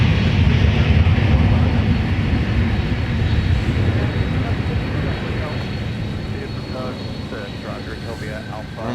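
An MD-11 airliner arriving at Minneapolis–St. Paul airport, a loud, broad engine roar that slowly fades as the jet passes, with people talking faintly at the spotting site.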